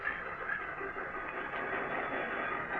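A local train arriving at a station, used as a radio drama sound effect, comes through as a steady rumbling hiss of rolling rail cars at moderate level, with no voices.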